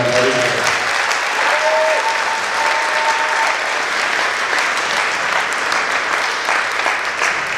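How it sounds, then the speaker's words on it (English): Sustained audience applause at a school honor band concert honoring a guest conductor, dense and steady throughout, loud and close with no pauses. "Please, another round of applause for guest conductor John Randall."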